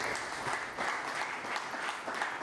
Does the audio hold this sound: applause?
yes